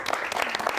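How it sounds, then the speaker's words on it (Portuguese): Audience applause on a Brazilian TV studio program, a steady dense wash of many hands clapping throughout, loud and close, with no one speaking over it. "Quero uma salva de palmas para Gustavito."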